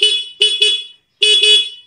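Stock horn of a Honda Raider 150 Fi motorcycle, loud and close, sounding in three short beeps, a pause, then two more blasts, with no talking.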